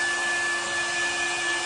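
A negative-ion hair dryer blows on hair from a short distance, a loud, steady whirring roar that holds level throughout with no voices.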